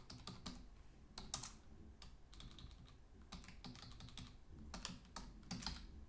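Quick, uneven bursts of keystrokes on a Dvorak-layout computer keyboard, with short pauses between runs of clacking, close and fairly quiet, no voices.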